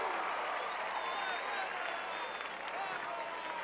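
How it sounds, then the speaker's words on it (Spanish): Concert crowd applauding steadily at a solidarity concert in Havana, a continuous wash of clapping and cheering under a voice talking over it. "Aplauso, caballero, aplauso, aplauso"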